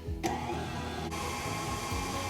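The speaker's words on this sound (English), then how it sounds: "I'm using a stand mixer." A stand mixer beats butter with a steady, continuous motor whir and hum that holds at an even, fairly loud level throughout, with no voices.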